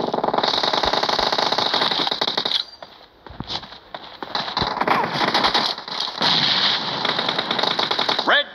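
Rapid automatic gunfire in a team-based video game match, loud dense bursts of shots with a brief lull in the middle, then sustained firing again.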